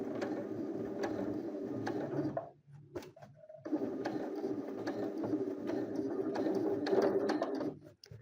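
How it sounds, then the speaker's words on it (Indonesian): A sewing machine runs a steady stitch-in-the-ditch seam along a patchwork strip tote bag with a close mechanical whir. It pauses briefly, with a few clicks and handling sounds, then resumes until it stops. "Kita akan menjahit di tengah. Istilahnya adalah stitch in the ditch atau menjahit di parit."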